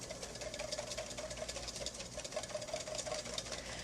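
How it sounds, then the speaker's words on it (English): Egg yolks whisked briskly in a bowl for pumpkin ice cream, a quiet, fast, steady rhythmic clicking and scraping that continues throughout. "I'm going to whisk them up."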